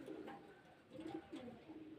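Pigeons coo softly in a loft during hot 42°C summer weather, with nesting birds, eggs and a newly hatched chick; low, fairly faint, repeated throaty coos come in short bursts over a quiet background.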